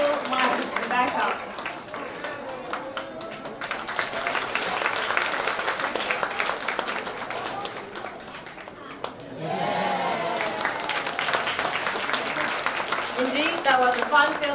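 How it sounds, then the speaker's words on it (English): An audience at an International Day for Older Persons event applauds a workout group, sustained dense clapping from a crowd with a short dip partway through before resuming just as full, with some voices under it. "Please give them a round of applause"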